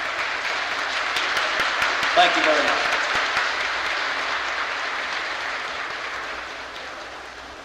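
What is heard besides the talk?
audience applause at a tsymbaly contest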